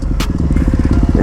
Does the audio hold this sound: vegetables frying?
no